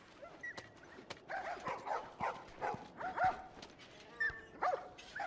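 A dog barks repeatedly in The Last of Us game, a string of rhythmic mid-distance barks and yips with short whimpering notes, fairly quiet over low background ambience.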